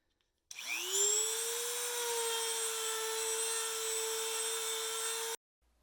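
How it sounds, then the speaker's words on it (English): A Dremel rotary tool cuts into the eye of a Ford leaf spring, a steady high whine that spins up quickly and holds for about five seconds at close range before stopping abruptly. "Dremel, leaf spring eye."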